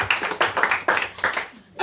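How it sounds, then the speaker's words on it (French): Congregation at a church service clapping rhythmically for the Lord, a steady run of sharp handclaps close by with voices and cheering mixed in. "acclame très très fort pour le Seigneur"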